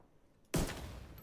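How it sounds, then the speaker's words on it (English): A distant explosion in a video game, a single sudden booming burst that decays into a rumbling tail over about a second. "Ooh, that was a nice distance explosion."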